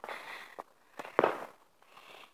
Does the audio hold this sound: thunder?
no